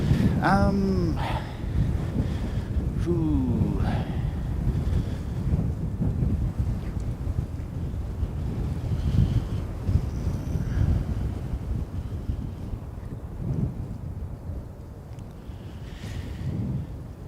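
Strong wind at an airport by runway 29 buffets the microphone in a constant low rumble with gusty swells, and a few faint high chirps come through near the start.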